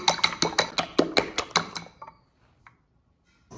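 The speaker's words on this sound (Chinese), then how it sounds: "我们呢来打几个鸡蛋" Eggs whisked in a bowl with quick rhythmic clinks and taps, about a dozen strokes in a fast burst that then stops, followed by near silence and a faint knock.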